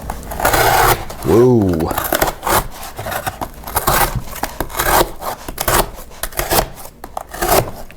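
A CIVIVI Hooligan knife with a 3mm thick hollow-ground blade slicing through material in repeated rasping strokes, close and fairly loud, with a person exclaiming partway through.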